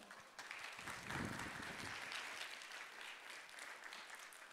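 A church congregation claps together to welcome a preacher at a Sunday service, a steady wash of applause lasting several seconds at moderate to faint level with no voices over it.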